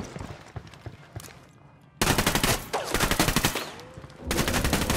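Rapid bursts of automatic gunfire from the Ghost Recon: Wildlands video game, loud and near, rattling in dense repeated volleys after a quieter opening stretch.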